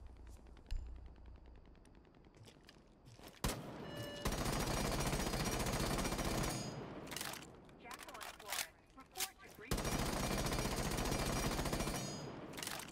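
Bursts of automatic fire from an FMG fitted with a flash hider in Rainbow Six Siege, loud sustained sprays separated by short pauses and single shots, with faint talk underneath.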